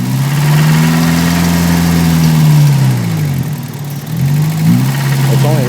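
A used engine idles steadily with a light ticking of valve chatter riding on its low hum, the pitch dipping briefly midway before settling back, close up and fairly loud.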